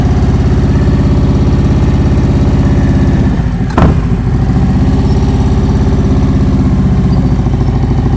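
A motorcycle engine idles and pulls steadily at low speed during slow-speed riding drills, a continuous loud close rumble with a brief dip and surge near the middle.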